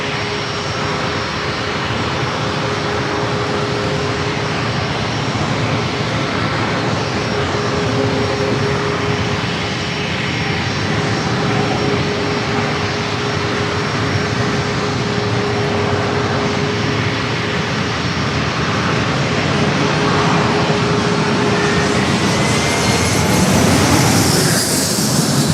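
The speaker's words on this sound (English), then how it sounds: "Next up, another flex jet." A Flexjet business jet roars at an airport, a loud, steady broadband engine rush with a faint whine, swelling slightly toward the end, with no voices.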